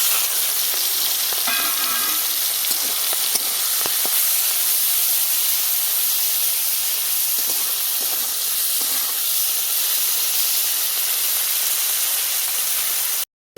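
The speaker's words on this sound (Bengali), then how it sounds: "কড়া গরম হয়ে গেছে সর্ষের তেল দিয়ে দিচ্ছি চিংড়ি মাছ ভাজবো" Prawns fry in very hot mustard oil in a wok, a loud continuous hissing sizzle close up, with a few light stirring scrapes early on and an abrupt stop at the end.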